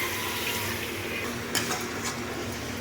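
Water poured into masala sizzling in a pan while chicken dahi is cooked, a steady watery wash with a brief louder splash partway through, close and continuous with no talking.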